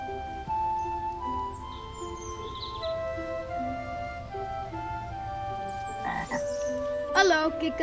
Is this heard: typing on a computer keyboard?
no